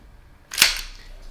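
A SIG P320 AXG Legion airsoft pistol dry-fired, a single sharp metallic snap of the hammer and slide at close range, otherwise quiet.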